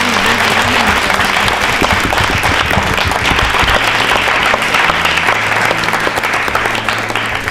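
A loud, sustained round of audience clapping at a Rajasthan state-round election quiz show, dense and even throughout with no talk breaking through.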